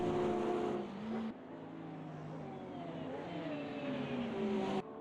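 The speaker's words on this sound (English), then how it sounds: "the speed, as we said, of that McLaren is pretty impressive. And he should be able to pull away from the AMG" A McLaren GT race car at the 2023 Bathurst 12 Hour, its engine droning steadily at high revs, with distinct gear changes near the start and end and no voices.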